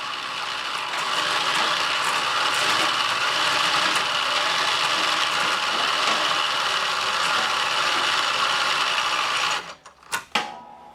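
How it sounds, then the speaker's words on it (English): An ATV plow winch pays out steel cable with a continuous mechanical whir and ratcheting clatter lasting about nine seconds, then stops with a few loud clunks. "if yours doesn't pull freely, you may need to actually use the winch and back it out"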